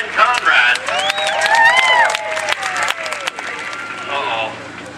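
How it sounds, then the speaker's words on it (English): Crowd applause and cheering at a rollover competition final for a contestant, a dense wash of clapping with whoops and excited voices rising over it, then thinning slightly toward the end. "Have a round of applause for Ken Conrad"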